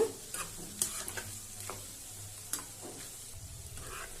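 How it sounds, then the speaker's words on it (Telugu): Egg pieces fry in hot oil for a pickle, with a soft, steady sizzle and occasional light stirring clicks and scrapes. The sound is close but fairly quiet, with no talking. "చూసారా ఈ ఎగ్ ముక్కలు ఎలా వేగుతున్నాయో"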